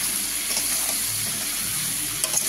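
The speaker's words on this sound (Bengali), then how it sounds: "এবার এটাকে আস্তে আস্তে আমি কষে নেবো ভালো করে" Chili powder and spices for a maan kochu fish curry are slowly sautéed in a pan, making a brief, steady, close frying hiss.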